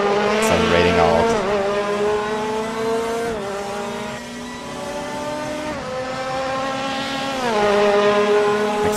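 A race car in a racing game accelerates out of a chicane at the Nürburgring, its engine loud and close, revving up through repeated gear changes with rising pitch sweeps and a brief tyre squeal near the start.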